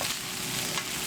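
Curry stirred in a pan as it cooks, a brief, close, steady sizzle with soft scraping, no voices.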